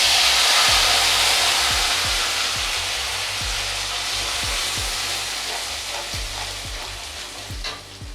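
Spice paste for a Bengali katla fish curry sizzles in a pan with cloves, cinnamon and garam masala, giving a steady loud frying hiss broken by repeated scraping taps of a spoon stirring the pan.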